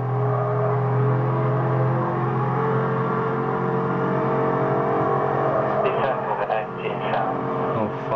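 Car engine in the Need for Speed Hot Pursuit racing game, a steady loud droning hum that runs throughout, with a person talking over it.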